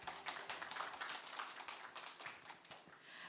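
An audience at a design demo day gives a round of applause, with dense, steady clapping that continues throughout, heard from some distance.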